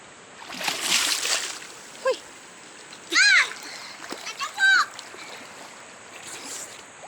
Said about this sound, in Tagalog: May bata naglalangoy.